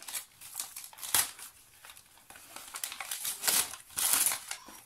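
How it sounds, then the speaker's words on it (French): An advent calendar box being opened, its packaging crinkling and rustling in close, irregular bursts of crackling paper and cardboard handling. "je vais ouvrir la boîte"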